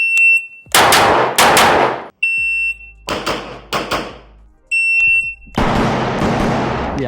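KRISS Vector fired in quick double-shot pairs, three bursts of loud close reports with sharp cracks and ringing decay, separated by short pauses and a faint electronic beep.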